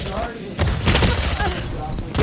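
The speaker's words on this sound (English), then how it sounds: "Enterprise sprays down Zos with that stinger" Rapid bursts of gunfire from a Stinger weapon in a competitive video game match, loud and dense after a quieter opening, mixed with game effects and some speech.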